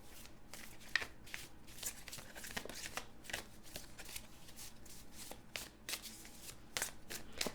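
A deck of tarot cards is shuffled continuously at close range, with quiet, rapid riffling and flicking bursts in an uneven rhythm.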